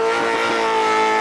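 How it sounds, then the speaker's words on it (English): Racer Brad Jones's Oz car at Summernats, its engine held at high revs in a loud, sustained, steady roar with a bright buzzing tone. "Listen to the revs he's pulling."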